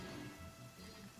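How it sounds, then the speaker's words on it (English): Steady rainfall in Genshin Impact, a faint continuous patter of drops on surfaces with no other clear sounds. "Going out on a rainy day is the worst"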